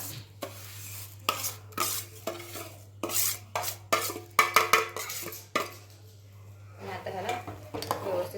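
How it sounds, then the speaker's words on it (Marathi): Vermicelli stirred into hot milk in a pan for a ghee-based kheer made without sugar, a utensil scraping and clinking against the metal in an irregular run of strokes under a steady background hum. "आता ह्याच्यामध्ये आपण ह्या शेवया घालून घेऊया"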